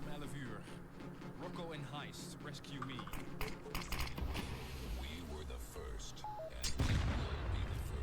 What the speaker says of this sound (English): That's a good HE grenade.